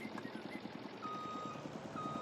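A Volvo dump truck in a farming video game backs up, its reversing alarm pulsing in a quick, regular series of beeps over a faint engine hum.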